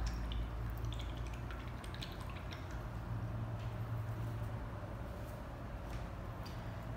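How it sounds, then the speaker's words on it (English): A paintbrush is swished and rinsed in a water cup during acrylic painting, quiet close dripping and sloshing liquid sounds over a low background hum. "wash your brush out"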